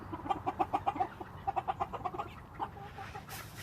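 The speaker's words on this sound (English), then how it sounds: "That's a rooster and a hen. Black one's a rooster." A black rooster and a gray hen cluck in a barnyard, a quick run of close, rhythmic clucks, a brief pause, then another burst that trails into scattered softer calls.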